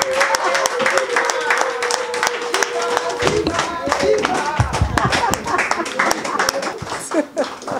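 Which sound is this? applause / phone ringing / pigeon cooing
applause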